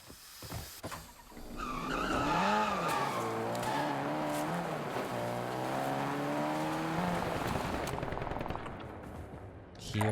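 A car in Call of Duty Warzone revs and skids loudly with sweeping engine tones and tire squeal over about ten seconds, with gunfire crackling around it.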